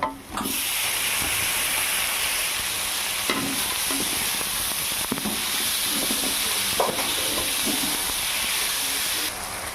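Tomato being sautéed in a pan for a cauliflower gravy, giving a loud, continuous sizzle and hiss with occasional stirring scrapes and no voices.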